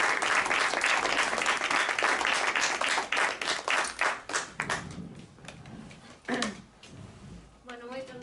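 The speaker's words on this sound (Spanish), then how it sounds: "recibamos con forte aplauso a Tamara Soldurán" Book-launch audience applause at a presentation, a burst of dense hand clapping that gradually thins out to scattered claps before a voice begins speaking.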